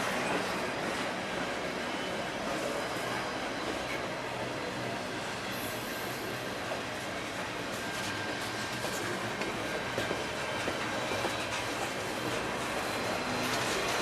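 Norfolk Southern freight train NS 9885 leading the V07 with an ex-UP SD90, a steady broadband rumble of rolling rail cars heard at moderate distance, continuous throughout with no talk.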